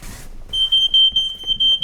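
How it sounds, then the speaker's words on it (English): A high, piercing smoke alarm tone sounds continuously and loud, with muffled voices and movement underneath. "Smoke alarm's going off."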